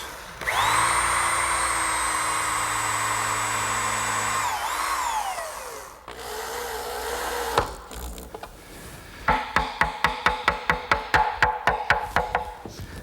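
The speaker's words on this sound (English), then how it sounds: "Now this strip of maple will act as a draw support and guide, and I'll just attach that with some screws." A power driver sinks screws into a maple strip that serves as a drawer support. A steady motor whine winds down, then comes a short pause and a quick run of sharp wooden clicks and knocks.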